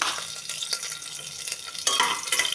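Garlic, curry leaves and green chilli sizzle in hot oil while a spoon stirs them, making a bright crackling hiss with a couple of scraping strokes, close up and brief, no talking.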